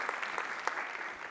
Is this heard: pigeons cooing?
no